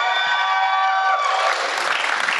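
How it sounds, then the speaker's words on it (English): Audience at a Q&A event breaking into applause and cheering, a burst of clapping that swells after a moment of whooping voices, crowd noise filling the room. "Yeah, there's easier ways of getting applause."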